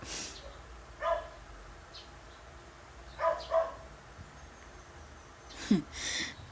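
A dog barks in a few scattered bursts at a moderate distance, some single and some paired, over a faint background hiss.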